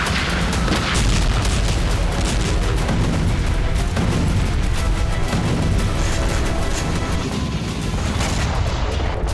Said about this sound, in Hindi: उसके करीब जोरदार धमाका किया जाता है